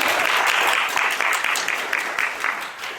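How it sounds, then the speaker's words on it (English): Town hall audience at a youth mental health meeting breaking into a steady wave of clapping that fills the room, dense and loud at first and tapering slightly toward the end. "we can clap for that."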